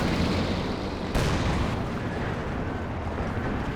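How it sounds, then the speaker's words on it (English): Werfer rocket artillery firing in the strategy game Company of Heroes 2, a dense, loud wash of rumbling blasts with a sharper boom partway through and no talking. "Werfer takes down some AT guns over here"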